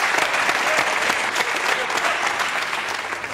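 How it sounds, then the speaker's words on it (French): Studio audience on a French television game show applauds loudly and steadily, a dense wash of clapping that carries on without a break and with no voices. "qu'on applaudit"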